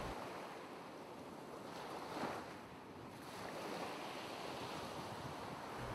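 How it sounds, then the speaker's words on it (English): Ocean waves wash and surge in a steady, broad roar with light wind noise, a mild swell of surf near the middle, continuous and alone without any voices. "imagine the cool waves"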